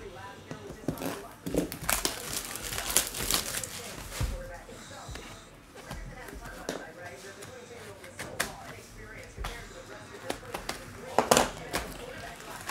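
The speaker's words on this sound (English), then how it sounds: "Let's rip this box here." Cardboard and foil packaging of a hockey card box being torn open and crinkled, with irregular rips, crackles and taps close by throughout.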